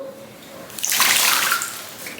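A pet pigeon bathes in a shallow tub of water, flapping and splashing in a loud burst of close, hissing spray that rises, holds about a second, then fades to lighter sloshing.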